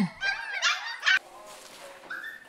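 Young puppies packed into a training room give high whimpers and a few sharp yips, close by, with brief pauses between the cries.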